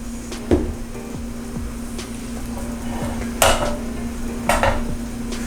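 A metal pan being handled while cooking with clarified butter, a few sharp clanks and knocks against a low steady hum, scattered over several seconds with no talking.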